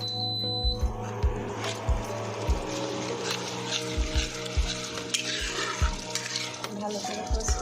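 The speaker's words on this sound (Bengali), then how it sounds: "ভালো করে কষিয়ে নেবে যতক্ষণ না তেল ছেড়ে আসছে।" A curd-based spice masala for rui fish fries in oil with a constant sizzle, while a utensil strikes the pan in a steady rhythm of repeated knocks and scrapes. A faint tonal beep sounds briefly near the start.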